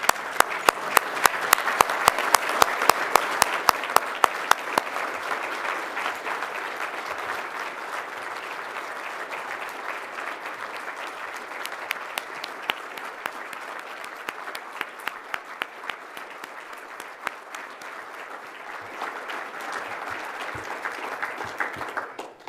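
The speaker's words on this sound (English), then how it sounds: "join me in a round of applause for this Minister of Finance" A room full of people applauds the Minister of Finance at a Canadian Club luncheon in Toronto. Sustained clapping runs for over twenty seconds, dense at first and then thinning to scattered sharp claps.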